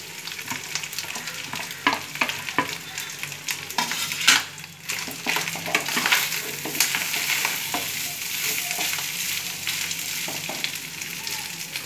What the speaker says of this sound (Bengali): এবার এর ভেতরে আমি দেবো যে ভাজা গাজরটা ছিল